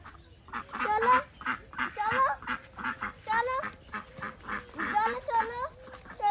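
Ducks and ducklings quack and honk in rapid, overlapping bursts close by, a busy, continuous chorus of calls from a small flock.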